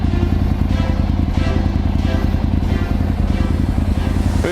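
A motorcycle engine runs loud and close with a steady, rumbling throb as the bike sets off on a timed journey across Leicester.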